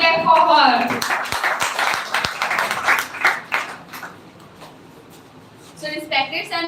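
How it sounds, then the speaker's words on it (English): A scattering of audience claps for a speaker at a formal gathering, a few sharp hand claps standing out amid ongoing voices and background murmur. "So get a loud clap for her."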